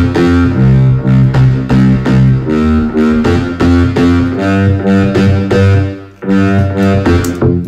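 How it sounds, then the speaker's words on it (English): Three bass lines layered with Valhalla reverb play a loud, repeating synth pattern with rhythmic pulses and sustained low tones, one brief dip near the end. "So the three bass together sound like this."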